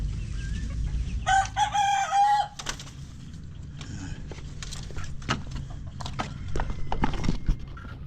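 A native rooster crows loudly near the start, one long clear call, followed by scattered clucks and scratchy knocks against low rumbling background noise.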